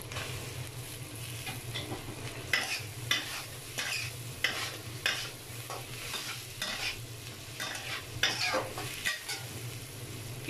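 Boiled vegetables stir-fried in a pan for chicken fried rice: a quiet, continuous sizzle with rhythmic scraping and tossing strokes from a spatula, repeating every second or so.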